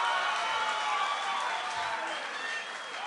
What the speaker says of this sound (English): let's give both these fighters a massive round of applause